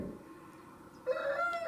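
A cockerel gives a territorial crow, heard at moderate distance, starting halfway through and holding a strained, drawn-out note.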